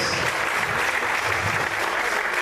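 A church congregation at a Portuguese-language evangelical service claps together in a steady, dense round of applause, loud and sustained across the whole moment, with no clear speech on top.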